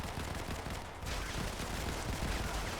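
Rapid automatic gunfire from the mobile shooter Modern Combat 5 on iOS during a competitive finals match, a dense, continuous roar of overlapping shots that dips briefly before resuming loudly, with no talk.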